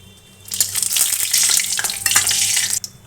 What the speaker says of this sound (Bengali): তেলের মধ্যে তেজপাতা ফোড়ন আর শুকনো লঙ্কা দিলাম